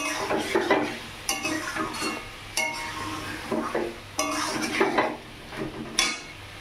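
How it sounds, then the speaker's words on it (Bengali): Pointed gourd and potato are being fried with spices and stirred in a pot for a prawn curry, giving sharp clinks and scrapes of a utensil against metal in irregular bursts over a faint sizzle. "একটু পটল আলুটা দিয়ে কষিয়ে নিই"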